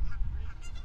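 A goose honks among birds on a golf course, a brief nasal call standing out faintly over a low background rumble.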